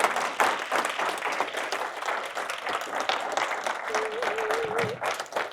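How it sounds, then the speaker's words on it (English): An audience at a talk on registry abolition breaks into sustained applause, dense steady clapping that stays loud throughout, with a brief voice rising above it near the end. "Everyone, big round of applause."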